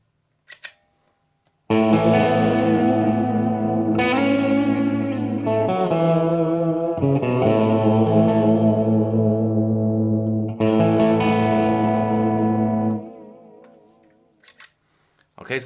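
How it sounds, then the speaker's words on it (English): Electric guitar played through a Mooer Ocean Machine modulated reverb pedal: several sustained chords ring out loud and shimmering, each swelling with wavering modulation and a long decaying reverb tail that fades to near silence at the end. "here's a modulated reverb where I add decay and add a bit of reverb to the mix just so you can hear"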